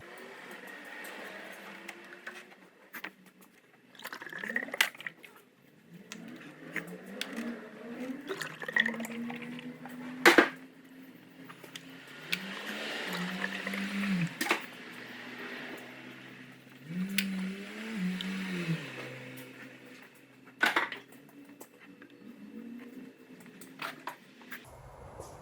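Transmission fluid is poured into the fill tube of a 2010 Mercury Mariner, with soft gurgling and pouring sounds, faint knocks and clatters from the bottle, and a few sharp clicks, all fairly quiet and close.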